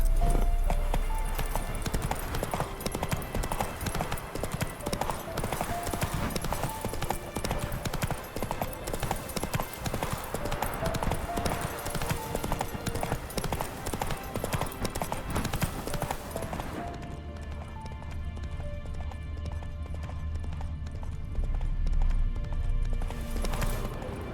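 Roach, the horse in The Witcher 3, gallops with steady, rhythmic hoofbeats that stay close and even, then ease off near the end with some faint voice.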